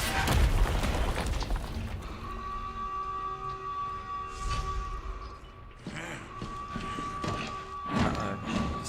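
In the Resident Evil 4 video game, a wrecking ball smashes down in several heavy thuds and booms, spread irregularly over a sustained tonal game backdrop.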